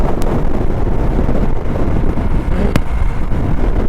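Steady, loud wind roar buffets the microphone while riding a Hero Xpulse Rally Edition motorcycle on a highway, with a broadband rush and two brief sharp clicks, no talk.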